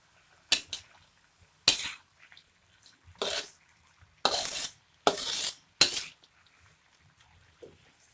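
Bean sprouts stirred in a hot pan for a stir-fried vegetable dish, six distinct scraping, clattering strokes of a utensil against the pan at irregular intervals, close and fairly loud with quiet gaps between.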